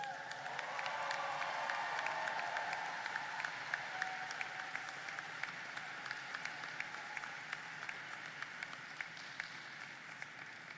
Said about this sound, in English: I want you to cheer right now loud enough for those people to hear you.